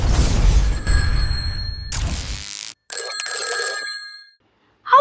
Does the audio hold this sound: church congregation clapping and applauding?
no